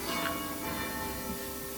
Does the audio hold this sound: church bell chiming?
yes